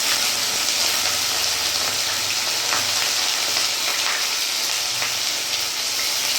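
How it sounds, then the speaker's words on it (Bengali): Taro stolons tipped into hot oil already tempered with fried nigella seeds, giving a steady, dense sizzle and crackle close by with occasional sharper pops, continuous throughout without talk. "কালো জিরেটা ভাজা হয়ে গেছে, এবার কচুলতিগুলো দিয়ে দেবো।"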